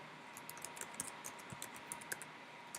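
Quick, light keystrokes on a computer keyboard as assignment details are entered into a calendar tool, a steady run of soft clicks at close range over faint background hiss, with no talking.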